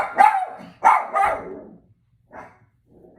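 Pet dog barking indoors, three sharp close barks in quick succession followed after a pause by a couple of softer yips, nearby and fairly loud in an otherwise quiet room.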